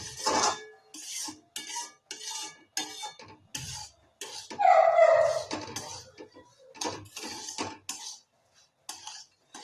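Semolina (suji) is dry-roasted slowly in a pan with light sprinkles of water. A spatula scrapes and clatters against the metal in short, irregular bursts, with a brief hiss in the middle and gaps of quiet between strokes.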